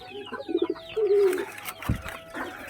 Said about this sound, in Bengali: দেখতেই পাচ্ছ পয়রাগুলো সব ভেতরে আছে।